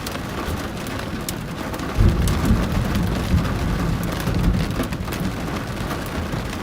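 Thunderstorm with steady rain over Colorado Springs, a broad continuous wash of rainfall with low rumbling thunder swelling in around the middle, no voices.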